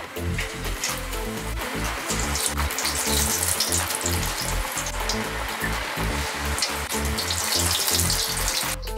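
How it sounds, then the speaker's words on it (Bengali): Cauliflower pakoras crackle and sizzle steadily in hot oil, a dense close-up frying hiss that runs without a break and stays loud throughout. "আমি এখন এর মধ্যে একে একে পাকোড়াগুলো ছেড়ে দিচ্ছি।"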